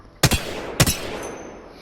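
Two sharp gunshots fired in the Apex Legends video game, about half a second apart, loud and close with a brief ringing tail after each, followed by a low lingering ambience and no talking.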